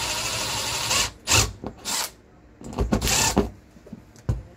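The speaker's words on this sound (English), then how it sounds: "Drill the hole where you need." A power drill with a countersinking bit whirs in several short bursts, close and loud, spinning up and stopping between pauses as it bores into 1/4 inch Sureply floor underlayment.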